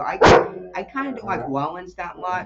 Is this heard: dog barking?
yes